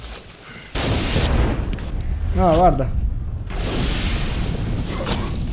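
A large explosion booms in Dead Island 2, a sudden heavy blast with a rumbling tail that rolls on for several seconds while a player talks over it.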